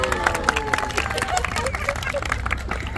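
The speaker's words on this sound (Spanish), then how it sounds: "Un aplauso, por favor, para el segundo participante." Crowd applause at an outdoor contest for the best Mexican grito in Jalisco, greeting the second contestant: a steady wash of clapping mixed with crowd babble and scattered voices.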